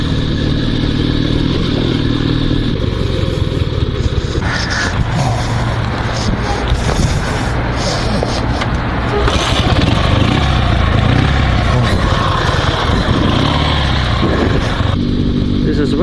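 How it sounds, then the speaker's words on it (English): A heavy sidecar motorcycle with a 650 cc engine rides along, its loud steady engine drone and rattling chassis continuous throughout, with throttle swells midway and someone speaking over it. "This is a very heavy motorcycle, and I have just 650 cc motor on this motorcycle."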